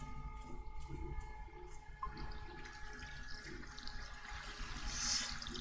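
Steady rushing water of waterfalls in the video game Seasons After Fall, a continuous broadband wash under soft ambient game music and tones, fairly even throughout.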